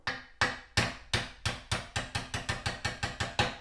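A brass drift is struck with a hammer to tap a pin out of the sling mount on a steel Mauser rifle, giving about fifteen sharp metallic taps in a steady rhythm that quicken slightly toward the end.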